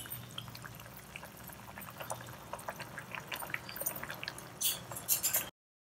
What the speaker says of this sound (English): allow it to boil till the vegetables are cooked and done